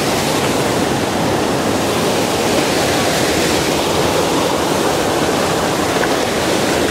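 A mountain stream in a forest rushes loudly and steadily at close range, a dense unbroken roar of tumbling water with no voices.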